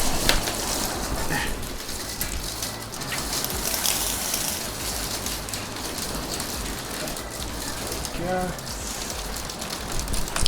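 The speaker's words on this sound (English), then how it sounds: "Let's have a look at this rain here." Rain from a hailstorm patters steadily and densely on surfaces nearby, a continuous hiss of drops with a faint bird call partway through.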